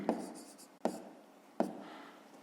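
Pen or pencil writing by hand on paper during a 5th-grade math exercise, soft scratchy strokes with three sharp taps at the start of each stroke group, close and quiet, with no talking.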